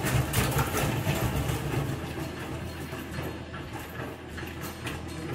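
A honey extractor spinning hard, giving a close, continuous mechanical whir and rattle with a rough, steady rhythm that eases slightly as it runs.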